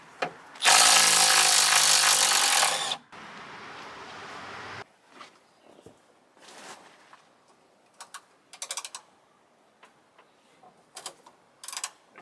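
A power tool whirs loudly for a couple of seconds, then drops to a lower drone while backing screws out of a radiator top plate, followed by scattered clicks, taps and metallic handling sounds.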